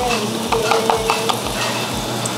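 Garlic and onion fry in olive oil with a bright, steady sizzle, while a utensil stirs them in quick rhythmic scrapes close to the pan.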